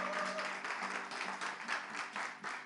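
Studio audience applause on a French television talk show, a dense steady wash of many hands clapping throughout, loud and close, with no talk over it.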